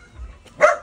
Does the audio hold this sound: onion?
no